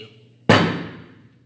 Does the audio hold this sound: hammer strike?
yes